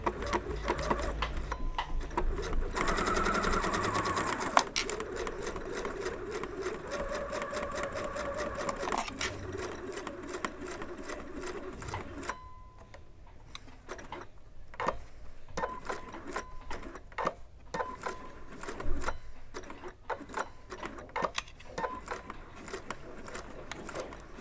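Sewing machine stitching a ukulele or guitar strap, a close rhythmic mechanical run of stitching that gives way to intermittent bursts, clicks and fabric handling.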